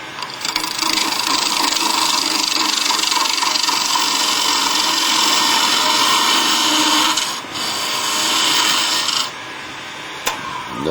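A skew chisel shears wood on a spinning lathe, its cutting edge barely engaged with the bevel riding flat, giving a steady loud hissing whir that dips briefly twice before fading.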